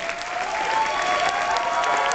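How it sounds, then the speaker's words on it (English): Audience applause at a beauty pageant, a dense, continuous round of clapping from a crowd, even and fairly loud for its whole short span, with a faint tonal hum underneath. "Let's give them a nice warm round of applause."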